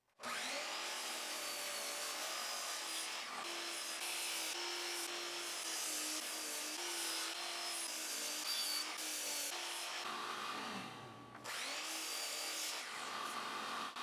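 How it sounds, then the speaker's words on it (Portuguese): A miter saw cuts wooden pieces to final length at a woodworking station, giving a steady, loud whining drone that runs almost without a break and dips briefly near the end before resuming. "Na estação de esquadria, cortei todas as peças nos comprimentos finais."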